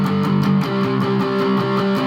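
Distorted electric guitar hammering out steady down-strummed power chords, G5 moving to C5, in a song intro; loud, dense and continuous with an even driving rhythm.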